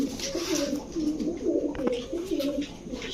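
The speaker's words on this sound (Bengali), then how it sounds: "এগুলো হচ্ছে আনার চোখের কবুতর" Racer pigeons with pomegranate-red eyes coo in low, repeated throaty phrases at close range, several overlapping in a steady, rolling rhythm.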